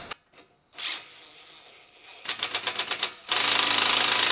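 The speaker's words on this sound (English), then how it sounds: "take the 10mm socket and wrench and tighten everything up" A 10mm socket wrench tightening bolts on a combine concave in a Case Flagship harvester, heard as a few scattered clicks and then a rapid run of ratcheting clicks before a loud, sustained rushing noise takes over.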